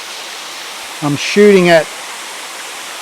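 A waterfall with water running down, heard as a steady broadband rush that continues under a man's brief spoken words.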